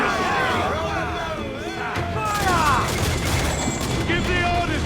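Ship cannons firing during a naval battle in Assassin's Creed 4: Black Flag, a dense continuous barrage of booms and blasts mixed with shouted crew voices and battle clamor throughout.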